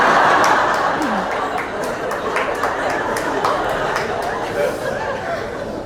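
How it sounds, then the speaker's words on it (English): A lone audience member claps steadily through a comedy special, sharp separate claps over a murmuring crowd with faint chuckles. "He's clapping."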